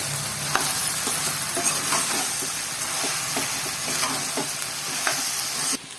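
Phool makhana (fox nuts) fry in oil in a pan for an aloo makhana curry, giving a constant bright sizzle with regular scraping clicks as a spoon stirs them, close and unbroken until a quick drop at the end.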